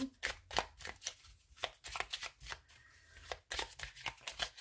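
Oracle cards are shuffled by hand close by, with quick papery riffles and slaps in an uneven rhythm and a short pause midway; no one speaks.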